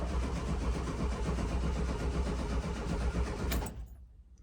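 A Volkswagen Kombi engine that has sat for over ten years cranks over on the starter without firing, a steady close, loud churning that runs for several seconds and then cuts off abruptly into quiet.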